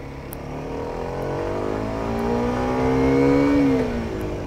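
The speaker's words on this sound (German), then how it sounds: "Muss man ein bisschen höher im ersten Gang drehen," A 2020 Kawasaki Ninja 125 motorcycle revs high in first gear, its engine note climbing steadily and loud over about four seconds before dropping off slightly, with a steady road rumble underneath.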